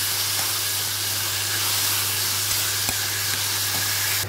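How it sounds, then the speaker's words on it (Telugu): Chopped tomato pieces sizzle steadily in a hot pan, a continuous loud frying hiss with a few faint clicks and no voices. "టమాటా ముక్కలు బాగా మగ్గిపోవాలి ఫ్రెండ్స్."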